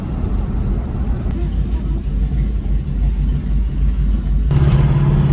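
A turbocharged 5.0 engine in a Ford Ranger pickup while driving, a loud, steady low rumble from inside the cab with a rising tone near the end, someone talking over it.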